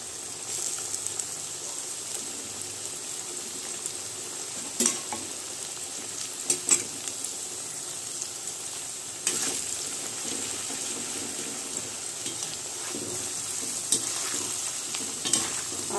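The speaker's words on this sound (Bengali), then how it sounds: "আদা আলু গাজর লঙ্কা সব একসাথে ভাজা হতে থাক।" Ginger, potato, carrot and green chili sizzle together in a pan as lentils near a light golden fry, a steady close hiss with occasional stirring scrapes and clinks throughout.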